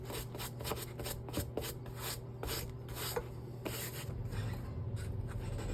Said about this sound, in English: We're going to basically be using the eraser on the whole shoe